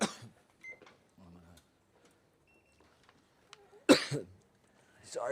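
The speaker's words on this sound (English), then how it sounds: "Sorry for the coughing, guys." A man in Jerusalem's Old City lets out a single sharp, loud cough burst close to the microphone, with a shorter throat-clearing cough at the end and faint clicks and murmurs between.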